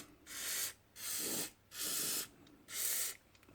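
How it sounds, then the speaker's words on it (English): Four short bursts of aerosol spray hiss onto the threads of a car battery tray during a windscreen washer repair, each about half a second long with brief pauses between, close and fairly quiet. "Bit of spray on those threads."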